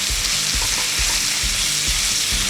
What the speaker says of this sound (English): I'm going to start prepare to turn the steak.